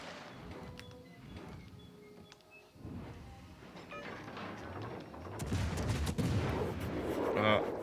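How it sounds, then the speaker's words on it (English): Enemy shells arriving in a naval battle in World of Warships: Legends, a rumbling mix of booming impacts and gunfire that grows denser and louder toward the end, with faint talk underneath. "the enemy shells come in"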